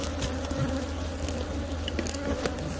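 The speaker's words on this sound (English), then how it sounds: "Look how many bees are still in here." Honeybees buzz steadily in an opened hive during a canola-season split, a dense continuous drone close by with faint clicks and taps of frames, no talking.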